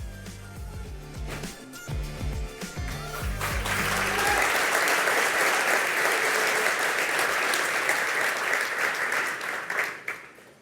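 Applause from an audience at a tech event unveiling the Cerebras CS-4 AI system builds after a few seconds of low tonal sound, holds as a broad, sustained clapping, then tapers off near the end.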